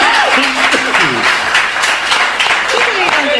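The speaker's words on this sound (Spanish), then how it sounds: "Aplauso fuerte" Studio audience on a radio music show claps in a lively burst, loud close applause with cheering voices and a person talking over the clapping.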